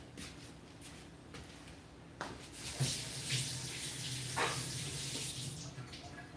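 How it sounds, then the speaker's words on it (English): A tap runs faintly as someone washes their hands, with a soft steady stream, a few splashes and brief rubbing noises. "Now I have to wash my hands because of you."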